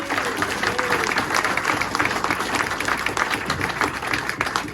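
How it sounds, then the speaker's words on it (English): Steady applause from a crowd at a speedway press conference, dense clapping that holds at an even level throughout without pause. "Ladies and gents, let's hear it for Dan Bewley."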